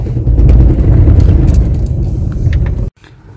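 Car interior on the road to Kirov, a steady loud low rumble of the engine and tyres throughout that cuts abruptly to near quiet just before the end.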